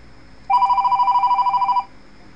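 A telephone rings for an incoming call with a single fast-trilling electronic burst of about a second and a half, loud and clear against a quiet background.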